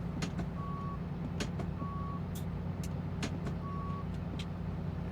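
Truck reversing alarm in a trucking simulator game, steady repeated beeps at regular intervals over a constant low diesel engine rumble, with occasional clicks and air hiss sounds.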